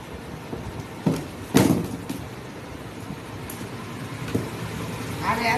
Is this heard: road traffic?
yes